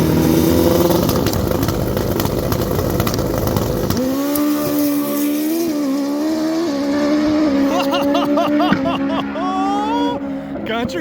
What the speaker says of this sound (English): Pass 2, twin turbo GSXR 1000.